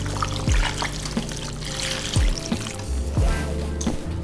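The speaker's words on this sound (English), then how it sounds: "two cups beef broth" Beef broth, about two cups, pours into a crock pot over an Italian-style pot roast with herbs. The steady liquid pour runs throughout, mixed with a few low thuds and rustles from the pot.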